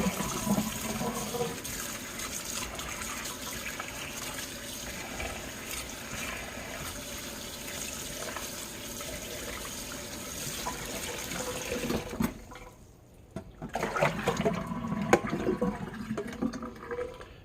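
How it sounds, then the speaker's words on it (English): Tap water runs steadily and close by as pork chop salad ingredients are rinsed, a continuous rushing splash that cuts off briefly near the end and then restarts with some clatter. "So we have a thorough rinse here."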